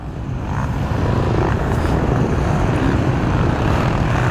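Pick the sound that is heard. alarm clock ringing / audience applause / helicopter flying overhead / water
helicopter flying overhead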